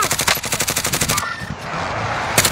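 Rapid bursts of automatic gunfire from the video game Warzone, loud and rhythmic for about a second, then a lingering rumble and a final shot.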